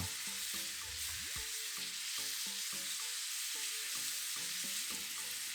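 Pork belly stir-fried with five-spice powder and garlic sizzles steadily in a pan for Taiwanese braised pork rice, with loud, continuous frying hiss broken by repeated stirring scrapes and clinks of a utensil.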